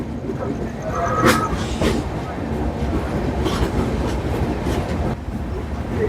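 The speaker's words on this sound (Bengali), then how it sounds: "ট্রেন ঢুকছে এখন" The Darjeeling Mail passenger train pulls into New Jalpaiguri station, heard from on board as a steady loud rumble with wheel clatter and occasional squeaks and knocks throughout.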